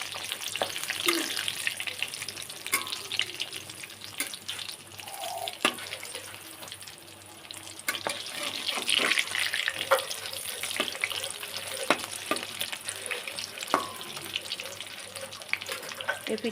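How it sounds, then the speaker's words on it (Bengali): Semolina and potato snacks fry in hot oil with a soft, steady sizzle and crackle, faint and close, with occasional clinks throughout. "এই পিঠটাও ভাজা দেব।"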